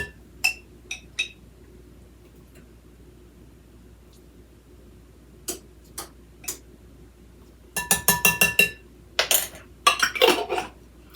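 Maraschino cherry juice is spooned into a glass bowl, bringing light clinks of a metal spoon against glass. Isolated taps come first, then a denser cluster of rapid clinks and scrapes near the end, close and clear with no talk.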